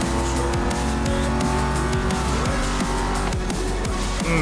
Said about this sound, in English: Very nice sounding engine on this thing.